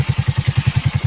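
A motorcycle labors up a very steep hill, its engine thumping loudly and close in a fast, steady, even pulse.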